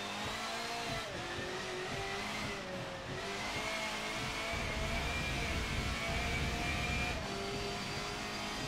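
A front-wheel-drive race car in Forza Motorsport 7 runs at full throttle on a wet track in the rain, its engine whining up and down through shifts in a steady, fairly quiet drone.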